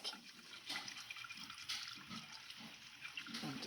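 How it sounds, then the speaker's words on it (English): Water mixed with flour and chili powder is whisked in a pan, a soft liquid sloshing and swishing in rhythmic strokes, quiet and close with no talk. "we're going to whisk it until it's nice and smooth"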